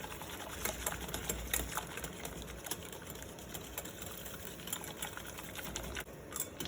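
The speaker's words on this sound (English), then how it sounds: "I'm just continuing to whisk." A whisk stirring lemon curd in a pot: a steady, fast scraping and clattering rhythm against the pan, close and continuous throughout, with no talk.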